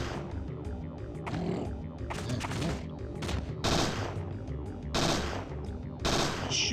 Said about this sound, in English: I'll shoot you while you're down.